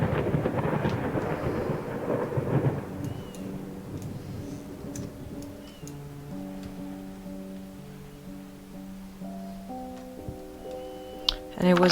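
Thunderstorm in the horror game Layers of Fear, a deep rumble of thunder rolling loudly at first and then fading into a faint rainy hush, with a soft ticking and some tonal sounds later.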